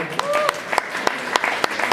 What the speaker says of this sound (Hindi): एक बार आप अपने लिए जोरदार ताली बजाइए.